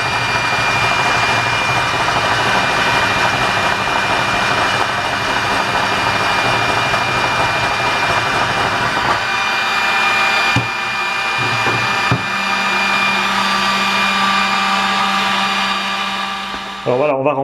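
A loud, continuous mechanical drone of a homemade rotary coin-cleaning tumbler drum motor, steady whirring with a few clunks and shifts in tone near the end.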